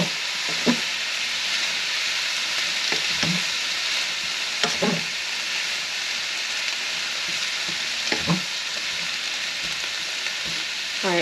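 Bean sprouts and beef lo mein ingredients fry with a steady sizzle in a hot pan, broken by several scraping stirs of a utensil at irregular intervals, with no talk.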